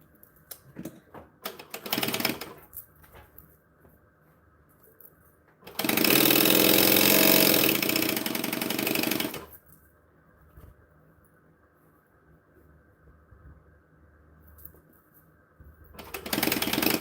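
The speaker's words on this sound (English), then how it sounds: "so this time we're going to sew all the pockets." Sewing machine stitching pockets onto a bag with a seam, giving a loud steady mechanical whir that runs alone for about four seconds, with shorter bursts before and after and quiet handling noise in between.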